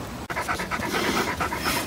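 Dogs pant rapidly and close by at a backcountry lakeside campsite, a quick rhythmic huffing with no talk.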